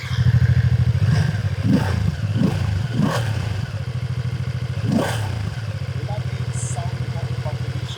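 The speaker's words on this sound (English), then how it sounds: "Lovely sound because of the configuration of the cylinders and yeah, of course, the twin cylinder setup." A 2026 BMW F 450 GS Adventure twin-cylinder exhaust rumbles at close range with a few sharp revs, then settles into a steady, throbbing idle.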